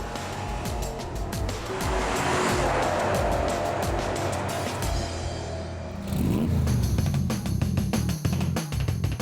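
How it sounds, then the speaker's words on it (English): A Porsche Panamera drives by with a steady engine roar and road noise, then accelerates more loudly and closer near the end. "Here it is, the Porsche Panamera, today's classic of tomorrow."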